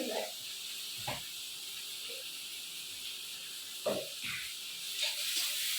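Food frying in a pan with salt and turmeric, a steady close hiss and sizzle broken by occasional clinks of a utensil.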